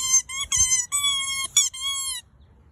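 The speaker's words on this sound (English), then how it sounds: "He got a new squeaky ball today." A Great Pyrenees puppy's new squeaky toy ball squeaks in a quick series of loud, high, close squeaks, some long and some short, before falling silent.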